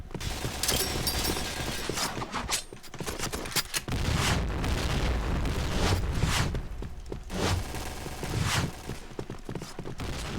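Explosive gunfire and booming blasts from a bomb going off in the online shooter Point Blank, dense and loud throughout with bursts of fusillade-like firing and a heavy low rumble.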